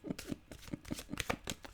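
A short, close riffle of playing cards, a quick series of crisp flapping clicks in a fast, uneven rhythm, quiet with no talking.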